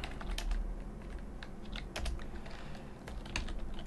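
Rapid clicking of keys on a computer keyboard, in uneven bursts with short pauses, close and moderately loud.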